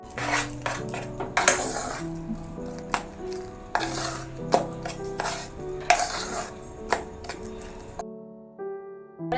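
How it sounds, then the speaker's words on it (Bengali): A spoon works salt and turmeric into soaked red lentil paste in a bowl, giving repeated clinks and scrapes in an irregular rhythm, close and fairly loud over faint background tones, with no talking. "এবার আমরা এখানে সামান্য নুন আর হলুদ গুঁড়ো মিশিয়ে দেবো।"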